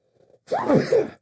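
A single sneeze bursts out after a faint breathy lead-in, close and fairly loud, during a relaxed podcast-style conversation with a musician from the Kill Tony band.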